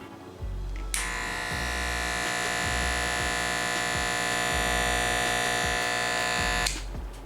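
An Oster Fast Feed hair clipper with a pivot motor switches on and runs steadily for several seconds with a loud, even electric buzz and a bright whine, then cuts off. No one speaks.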